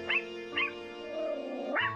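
A small Chihuahua dog barks in three high, strained bursts with a whimpering, breathy tone in between, close by and fairly quiet, in a pet spa setting.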